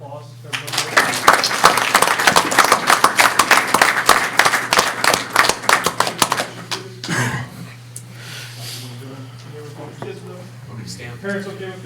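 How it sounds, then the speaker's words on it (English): Audience applause at a city council meeting, a burst of dense clapping that swells for several seconds then thins out into scattered claps as voices begin talking over a steady background hum. "I'd like another round of applause."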